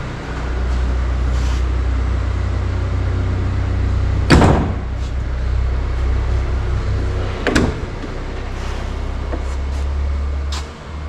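Over a steady engine hum, a full-weight 1993-2002 F-body car door on lift-off hinges thumps shut twice, a few seconds apart, with smaller clicks and rattles in between.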